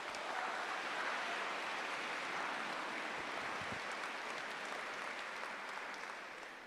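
A church congregation at an evening healing service applauds in a steady, even wash of many hands, fairly faint and distant, easing off slightly at the end.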